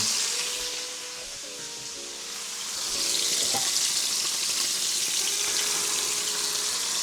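Tobacco chicken pieces frying in a pot under a pressing plate give a steady sizzle and hiss, with a few light metallic clinks of cookware early on.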